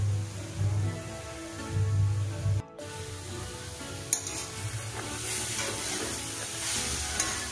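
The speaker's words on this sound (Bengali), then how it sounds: "ভালো করে খুন্তি দিয়ে নাড়িয়ে নেব, একদম গাজরের সাথে মিলিয়ে দেবো আর কি" Carrot halwa with cashews cooking over low heat and stirred with a spatula, a close sizzle with repeated scraping strokes, a brief pause, then continued stirring and soft clinks.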